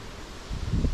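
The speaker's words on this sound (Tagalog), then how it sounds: "Sobrang mahangin." Strong wind gusts through a home garden outdoors, rustling steadily and building into a louder rumbling buffet on the microphone near the end of this short stretch.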